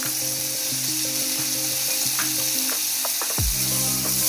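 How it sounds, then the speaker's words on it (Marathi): Onion sizzles and fries steadily in hot oil with cumin, mustard seeds and asafoetida for a potato dish, a loud continuous crackle with occasional stirring clicks and a brief louder burst near the end. "कांदा चांगला फ्राय करून घ्यायचा आहे जिरे मोहरी हिंग टाकून आपण कांदा चांगल्या प्रकारे फ्राय करून घेत आहोत"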